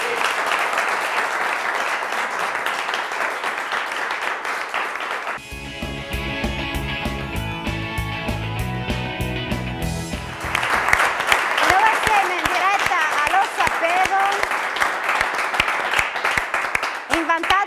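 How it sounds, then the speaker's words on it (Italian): Studio audience on an Italian TV quiz show applauds loudly and steadily, with a stretch of music mixed in partway through before the clapping swells again near the end. "facciamo un applauso, dai, andiamo in pubblicità."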